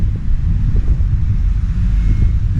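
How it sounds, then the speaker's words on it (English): Strong wind blowing across an apartment rooftop in Taipei, with a loud steady low rumble buffeting the microphone without a break. "And it's very windy here."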